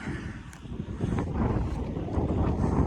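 Wind gusting across an open farm field after soybeans, a loud rumbling roar buffeting the microphone, rising slightly toward the end, with no talking.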